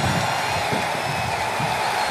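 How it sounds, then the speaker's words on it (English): Arena crowd in the WWE 2K23 wrestling video game, a steady, dense roar of cheering held at a constant level throughout, with no voices standing out. "The sound of this crowd is deafening,"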